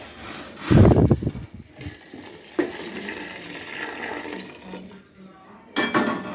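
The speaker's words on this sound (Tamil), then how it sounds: "எல்லாத்தையும் வதக்கி வச்சு நான் வந்து தண்ணி வச்சுருக்கிறேன் தண்ணி கொதிக்குது" Water boiling in a cooking pot over sautéed vegetables on a home stove, a soft steady bubbling hiss broken by a few close clinks and scrapes of utensils against the pot.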